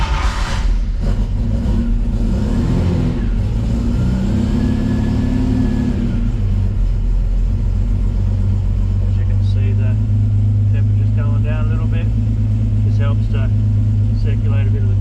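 A Hemi 6 Pak Charger engine with a solid cam runs loud and close, rumbling with lumpy revs before settling into a deep, steady idle, while someone talks over it.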